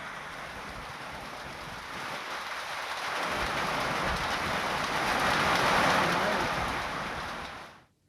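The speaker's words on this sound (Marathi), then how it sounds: "विजेच्या कडकडाटासह रिमझिम पाऊस सुरू झाल्यानं उकाड्यापासून दिलासा मिळाला" Steady unseasonal rain falling during a thunderstorm in Maharashtra, a dense even hiss that swells gradually louder over several seconds before cutting off, with no voices.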